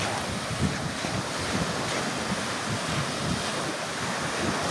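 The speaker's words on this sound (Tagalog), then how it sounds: "Ganda ng dagat, guys." Surf washing onto a beach during a summer outing, a steady broadband rush of waves mixed with wind buffeting the microphone, continuous and fairly close with no voices.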